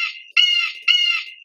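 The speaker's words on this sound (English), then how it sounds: "Bird!" A bird squawks in the game Windowsill, three loud, close, harsh calls, a short one followed by two longer ones, separated by brief silences.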